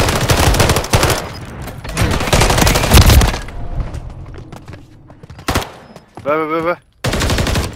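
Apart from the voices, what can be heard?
gunfire in Modern Warfare 3 video game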